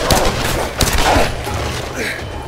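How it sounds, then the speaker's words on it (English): Gunfire in the video game Tomb Raider, a few sharp shots and bursts cracking over a noisy backdrop within a couple of seconds. "we should probably run towards the gunshots and find out"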